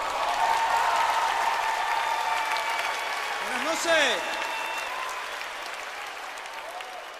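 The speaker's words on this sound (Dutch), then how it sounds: "Geef ze een heel groot applaus." Large concert crowd at the Sportpaleis applauding during a Latino concert, a broad steady roar of clapping that slowly fades, with a voice briefly speaking over it midway.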